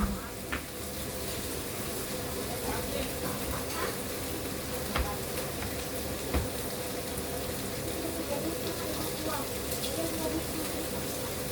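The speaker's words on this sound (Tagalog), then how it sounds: "Sige ko na ihawin yung prawn" Prawns on a barbecue grill give a steady, close sizzle dotted with small crackles and pops, with voices talking faintly alongside.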